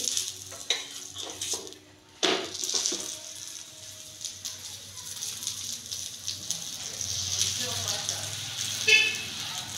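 Aloo mughlai frying in a small amount of oil in a pan, a soft steady sizzle with occasional clinks of utensils against the pan and a spoken voice over it.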